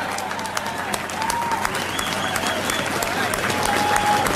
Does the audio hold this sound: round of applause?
yes